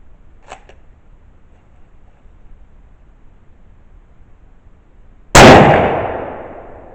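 A single loud gunshot from a 1942 Turkish Mauser rifle firing a full metal jacket round bursts out sharply after a long quiet stretch, its blast decaying over about a second and a half; a faint click comes early on.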